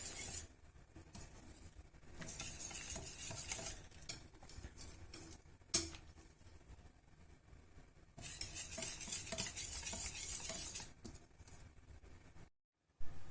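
Baghrir crêpe batter is stirred in a bowl, giving soft, quiet scraping and swishing strokes in uneven bursts, with a short silent pause near the end.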